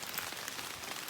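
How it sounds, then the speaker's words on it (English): Rain falls during a hike in Massachusetts, a steady dense patter of drops striking surfaces all around, with no voices. "it's raining right now. It's raining everywhere."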